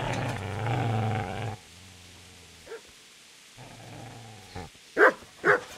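A dog barks and growls at a man in Kingdom Come: Deliverance: a low rumbling growl first, then after a pause a couple of sharp, loud barks near the end.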